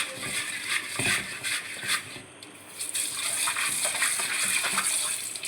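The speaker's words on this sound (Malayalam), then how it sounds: "നമ്മൾ മീനൊക്കെ നന്നാക്കി കഴിഞ്ഞ് നമുക്കൊന്ന് കഴുകാം." Mackerel being scrubbed with rock salt in water, with splashing, gritty rubbing and running water in irregular bursts, close and fairly loud.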